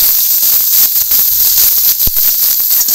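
Chopped onion fries in hot oil in a kadai, giving a loud, continuous sizzling hiss that carries on without a break.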